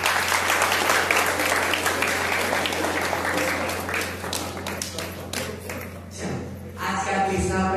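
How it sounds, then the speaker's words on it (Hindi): Applause from an audience in a religious teaching session honoring a grandmother, a busy patter of clapping running throughout with thumps and taps, fading briefly near the end before picking up again. "ताली बजाइए सब"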